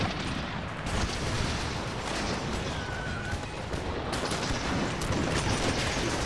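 Continuous heavy gunfire and cannon blasts, including grapeshot, roar together in a dense, loud barrage of battle noise with no pauses, in the video game Empire: Total War.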